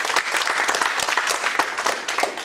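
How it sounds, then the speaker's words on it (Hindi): Audience applause for a pharmaceutical product at a promotional event, a dense, steady wash of many hands clapping together, loud and sustained with no pause throughout. "एक बार इस प्रोडक्ट के लिए जोरदार तालियां बजा सकते हैं"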